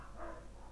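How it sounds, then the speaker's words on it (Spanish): Dogs barking in the background, a single short, muffled bark, faint and distant under steady ambient noise. "no sé si de fondo oís los perros, pero son muy pesados"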